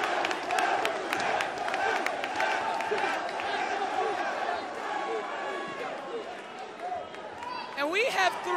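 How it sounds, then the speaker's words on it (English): A large crowd at a House of Glory pro wrestling event roars and cheers continuously, a dense wall of noise with scattered shouts and clapping throughout. "Listen to this crowd!"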